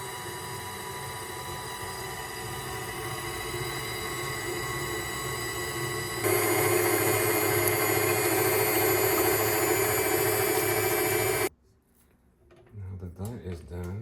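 A stand mixer whisks three eggs for homemade egg noodle dough, a steady loud motor whir with rattling that jumps louder partway through, then cuts off abruptly near the end, with a voice briefly heard after it stops.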